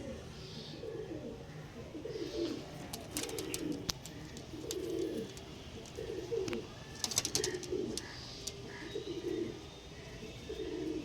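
Soft, repeated pigeon coos in a steady rhythm, with occasional chirps and clicks over a quiet background.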